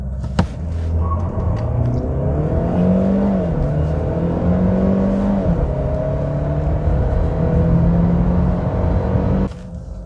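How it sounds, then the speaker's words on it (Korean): A Mercedes-Benz A220 sedan in sport mode accelerates hard from a standstill toward 100 km/h, its engine note climbing steadily through rising gear pulls with brief dips at shifts, loud and close from inside the cabin. "출발해서 초기에 약간 지체하는 현상이 느껴지고요 이후에 꾸준하게 힘을 모아서 가속을 이어가고 있습니다"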